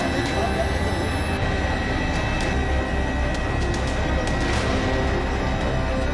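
Helicopter cabin noise during a campaign trip in Madhya Pradesh, a steady loud engine and rotor drone filling the whole stretch without pause, with faint voices in the background.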